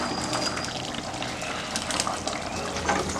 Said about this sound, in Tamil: நம்ம அரைச்சி வச்சுருக்க தேங்காயை இதில் ஊற்றிடலாம்.